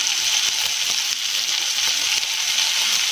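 Chopped onion and cut long beans hit a hot pan for veg pulao, giving a loud, steady sizzle that holds evenly throughout with no talking.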